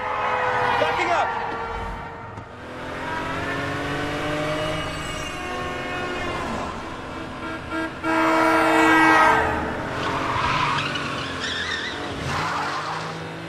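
A car reverses fast through traffic in a movie chase, tires skidding and squealing loudly with engine roar and horns blaring, while people shout over the chaos.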